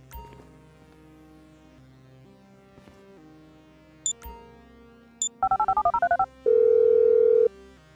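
A cell phone in the video game Grand Theft Auto V dialing, with short beeps, then a quick rapid burst of keypad tones, then a long steady ringing tone over low game ambience.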